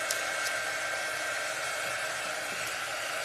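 Close, steady rush of a hair dryer drying paint on a patriotic red, white and blue craft frame, a constant airy whoosh with no voices over it.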